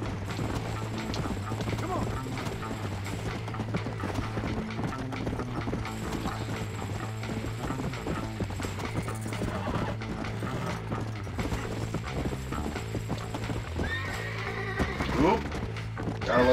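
Rhythmic hoofbeats of a galloping horse in the video game Red Dead Redemption pound steadily throughout, with mechanical clunks and a voice talking over them.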